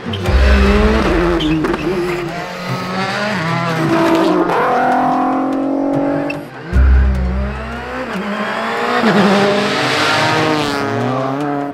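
Rally car number 11 at the Rallye de Luxembourg pulls out of the service park at Ausingen, its engine revving loud and close through rising gear changes, with a brief lift and a second hard acceleration.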